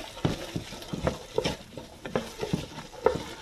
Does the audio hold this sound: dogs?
no